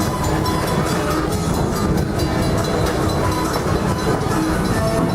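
The Miami Valley Railroad amusement park train rolls through a crossing, a loud continuous rumble of wheels and wagons with steady clatter, close and without speech.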